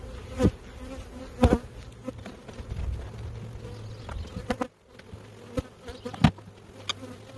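Honey bees buzzing around a spring hive in Michigan, a steady close drone with individual insects passing near, plus intermittent knocks and clunks of hive equipment being handled.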